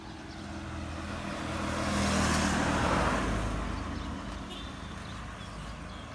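Honda C70 motorcycle, a three-speed engine, idling after starting: a steady broadband engine drone that swells slightly in the middle and then holds, fairly close.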